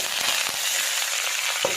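Vadagam and greens frying in hot oil, giving a close, even crackling sizzle with faint soft taps of a utensil, brief and without voices.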